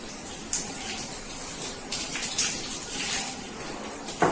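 Water splashes and runs over a motorcycle seat being washed with a sponge in a bathroom, a steady wet wash with a few sharper splashes along the way.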